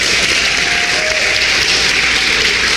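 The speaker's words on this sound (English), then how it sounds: "Please give her a round of applause" A convention audience claps steadily at a national reparations gathering, a dense, loud, sustained wash of applause with no break.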